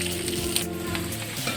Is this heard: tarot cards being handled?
no